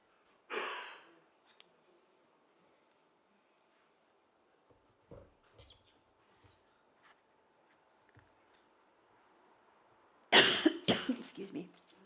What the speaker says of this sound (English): The irony of choking on a cough sweet.